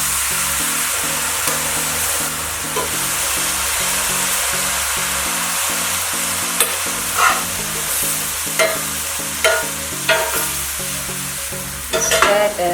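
Maggi noodles with vegetables fry in a pan, a loud close sizzle under repeated scraping stirs that grow sharper and more frequent toward the end.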